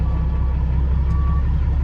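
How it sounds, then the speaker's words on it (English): A Peterbilt 362 truck backs up slowly, its diesel engine rumbling loud and close beneath a faint, steady reversing tone. "just backing the truck up so I can get it out of the way of the Cabover"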